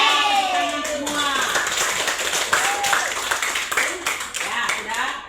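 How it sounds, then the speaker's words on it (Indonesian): A class of young schoolchildren claps hands in a scattered, uneven patter that runs steadily throughout, with children's voices calling out over it. "Ya, tepuk tangan semua."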